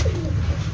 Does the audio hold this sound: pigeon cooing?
yes